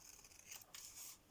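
Scissors snip through fabric while rounding off its edges for a small handmade craft project, giving a few quick crisp cuts close to the microphone, each fairly soft and brief.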